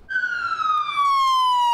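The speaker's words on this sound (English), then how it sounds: "it's a sound heard more than ever. Ambulances responding to emergency calls" A single loud ambulance siren wail in Daphne, Baldwin County, sweeps smoothly downward in pitch, close and clear, with nothing else audible.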